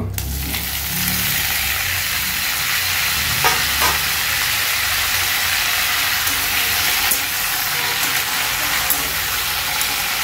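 Tomatoes go into a hot frying pan with curry leaves, cumin and fennel, and a loud, hissing sizzle bursts up at once and keeps going evenly, with a few sharper spits along the way.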